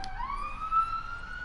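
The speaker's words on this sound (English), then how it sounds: "Sorry for the police sirens going by." A police car siren wails steadily outside during a dinosaur park building game, its rising then level tone passing at moderate distance with no talk over it.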